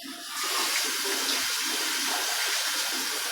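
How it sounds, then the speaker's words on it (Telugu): Tap water runs steadily over a cutting board being washed at a kitchen sink, a continuous close, loud splashing rush with no voices. "కటింగ్ బోర్డు కడిగి పెట్టుకుందాం."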